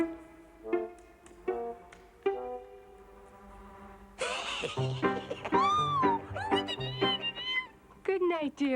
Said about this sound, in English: Why, it's just a little kitten.